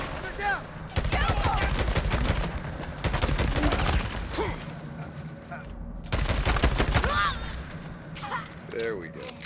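Bursts of sniper and rapid gunfire from the game Days Gone, played on hard difficulty, crack in dense clusters with short pauses between volleys, loud and close, with game voices breaking through at times.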